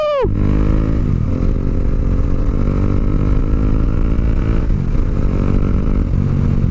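Motorcycle ride on a cold, muddy, slippery road: a close, loud engine drone that runs steadily throughout, dipping briefly as revs shift near the start and again around the midpoint, with no talking over it.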